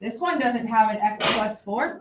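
A single sharp sneeze bursts out between stretches of a person talking, loud and close, followed by more speech.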